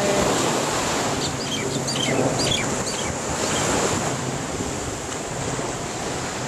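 Ocean waves roll and wash onto a Hawaiian beach in a steady, continuous surf roar, with wind buffeting the microphone and no talking.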